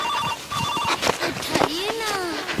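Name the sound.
telephone ringing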